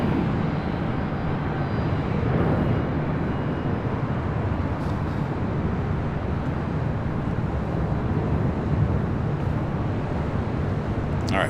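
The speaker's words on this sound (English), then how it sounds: "bring it back to the north side on the Japan Airways, the Dreamliner, heading back to Tokyo Narita" A Japan Airlines Boeing 787-9 Dreamliner at LAX, bound for Tokyo Narita, produces a steady, broadband jet roar that holds at an even level throughout, distant and continuous with wind rumble mixed in.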